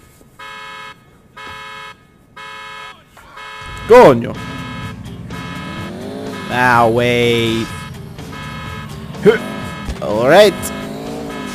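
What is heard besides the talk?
car horn honking in the video game GTA IV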